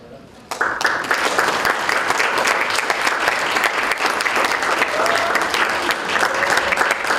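At a thesis competition award ceremony, a room bursts into applause after a brief quiet moment and keeps clapping steadily and loudly to the end, with faint voices underneath.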